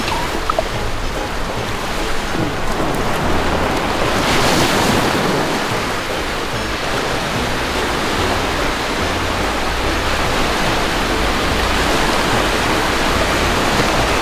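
Sea surf and gusting wind on a beach at Hua Hin, a steady loud roar of breaking waves mixed with wind buffeting the microphone, continuous throughout with no talking.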